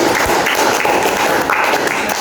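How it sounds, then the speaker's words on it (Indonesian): Applause for group 3 in a school lesson: steady, dense clapping from a roomful of students fills the whole moment at close range, loud and continuous. "tepuk tangan untuk kelompok 3"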